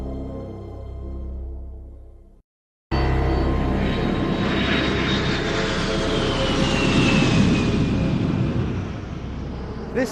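A military attack aircraft flies past, its loud broadband engine roar rising and holding steady with a falling whine, after a brief gap in a different preceding sound.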